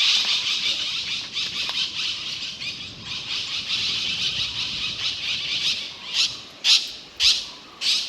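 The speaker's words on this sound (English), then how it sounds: "It looked like the noisy birds were plum-headed parakeets." Shrill, harsh squawks from a flock of plum-headed parakeets in a forest overlap continuously, then break into a few separate loud calls near the end.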